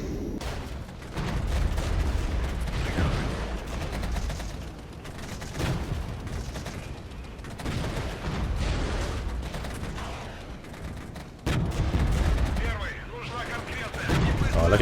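Dense gunfire and artillery from fire support units pound away in the Regiments wargame, a steady barrage of overlapping shots and booms with mechanical clatter, sustained throughout at moderate loudness.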